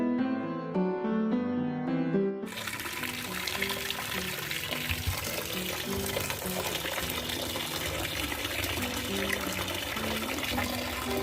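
Water splashes and pours into a cooking pot as mutton goes in for yakhni, a steady close liquid rush following a short stretch of tonal music at the start.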